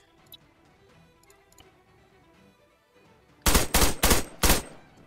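Sniper rifle fire during a video game capture the flag match: a quiet, ticking background breaks into four loud, sharp shots in close succession near the end.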